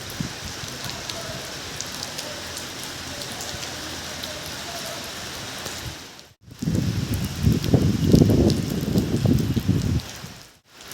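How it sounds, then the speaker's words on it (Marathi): Steady rain patters on a hard surface beside the Samruddhi Mahamarg expressway at the Amane interchange, growing heavier and louder partway through after a brief break. "पाऊस पडत आहे"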